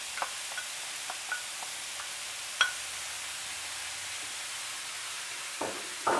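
Fresh mushrooms sauté in a large skillet with a faint, even hiss. A few small clicks and scrapes of stirring break through at scattered moments.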